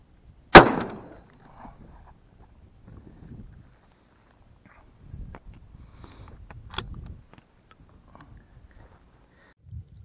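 A 20-gauge Rizzini BR-110 shotgun loaded with 28 g of No. 5 shot and a full choke fires a single sharp, loud blast early on, then quiet shuffling, a faint click and handling noises follow.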